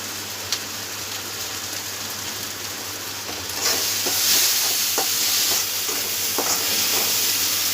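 Masala spices roast in hot oil in a home kitchen pan for matar paneer, a steady hiss that grows louder and fuller midway, with occasional stirring clicks and scrapes and no talk.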